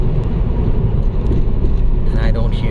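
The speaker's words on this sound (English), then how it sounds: "I'm gonna let off the gas" A 2009 Mazda 5 cruising as the driver lifts off the gas, a steady low road rumble and engine drone filling the cabin, loud and continuous from inside the car.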